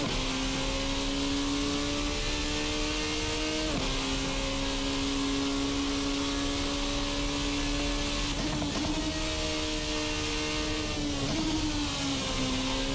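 A Formula RSS Supreme race car engine screams in a sim racing game, with a loud, steady high-pitched drone and several quick pitch shifts as the car accelerates out of a hairpin.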